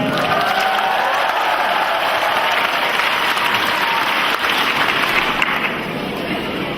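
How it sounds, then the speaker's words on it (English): A large crowd at a komuz ensemble world-record event in Yakutia breaks into sustained, dense applause and cheering that holds steady and loud throughout, with no voices standing out. "The public cheered, applauded"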